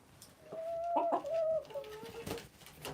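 Chickens in a backyard flock during feeding, giving a few close, clucking calls over about three seconds, with soft bird sounds in the background.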